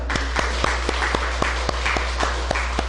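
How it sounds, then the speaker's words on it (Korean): A church congregation at a Sunday family worship service claps in welcome, with sharp, evenly spaced claps standing out over a steady low hum and a busy room. "우리 다 같이 박수로 환영할까요?"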